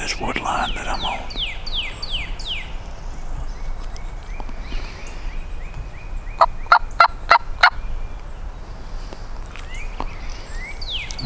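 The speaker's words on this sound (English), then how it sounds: "sound of his gobbling, maybe." A wild turkey gobbles from just out of sight in Georgia woods during a hunt. A short run of distant, rapid gobbles rises over quiet woodland ambience, with other small birds chirping faintly around it.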